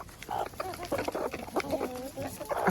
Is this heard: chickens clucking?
yes